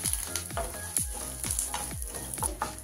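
Curry leaves sizzle in hot oil with dry red chilies and coconut, a steady close frying hiss broken by repeated scraping stirs about every half second.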